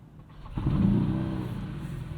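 A 4.4 liter V8 in a BMW XM Label SUV fires up, the start catching sharply after a quiet moment and settling into a loud, steady, deep idle rumble close by.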